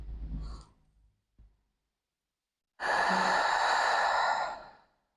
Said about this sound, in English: you're gonna blow out like you're blowing out a candle